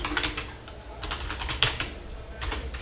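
Steady clicking of a computer keyboard as someone types HTML code during a beginner web lesson, a close, continuous patter of keystrokes with no talking.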